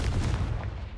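Confringo fire blast spell cast in a video game: a dense, loud, booming burst that rumbles for about a second with a heavy low-end roar.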